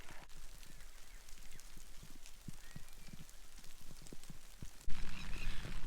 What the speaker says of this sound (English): It is raining a little bit heavier now